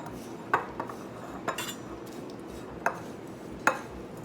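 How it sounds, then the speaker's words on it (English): Herbal liver tea blend with a tablespoon of goldenseal being stirred, with several sharp metallic spoon clinks against a bowl rising over a quiet, steady background. "we're just going to mix all this up"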